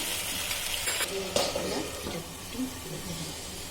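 Veg Manchurian frying and being stirred in a kadai, a steady soft sizzle with occasional scraping stir strokes and a faint clink, heard up close and continuous without talk.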